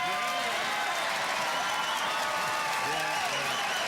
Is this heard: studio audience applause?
yes